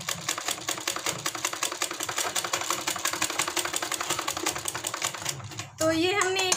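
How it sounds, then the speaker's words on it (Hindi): A sewing machine stitches the side seam of a kurti in a fast, even run of mechanical clatter. It stops near the end, and a voice then takes over. "इसी तरीके से हमें सिलाई को चलाते जाना है"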